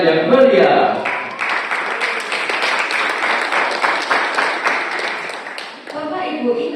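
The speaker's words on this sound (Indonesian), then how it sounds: "Marilah sekali lagi kita beri tepuk tangan yang meriah." Guests at a school culinary practical exam staged as a traditional Javanese wedding clap warmly, and the sustained applause runs under a host's voice before tapering off near the end.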